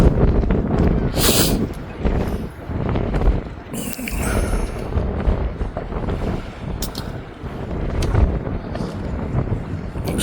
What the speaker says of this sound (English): it is still windy